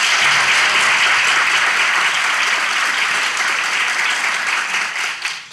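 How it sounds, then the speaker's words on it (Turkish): A studio audience at a Turkish talk show breaks into dense, steady applause for a guest couple, loud and sustained throughout before tapering slightly at the end. "bir alkışlayalım"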